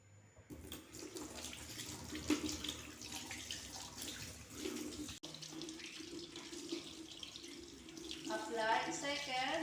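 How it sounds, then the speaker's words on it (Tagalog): Tap water runs steadily into a sink while hands are wetted beneath it, a continuous close splashing hiss under a faint voice. "The first is we're going to wet our hands with water."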